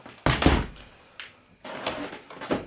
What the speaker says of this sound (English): I open the door and the cat goes out to do its business